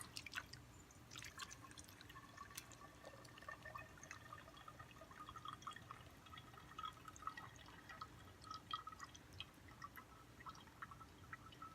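Kombucha poured through a filter into a bottle, a steady trickle with small drips and splashes running throughout at low level, no talking.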